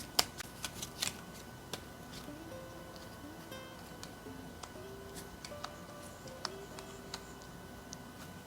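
Tarot cards are shuffled and handled close up in a quiet room, making soft riffling flutters and a series of crisp, scattered card snaps and taps with no one speaking.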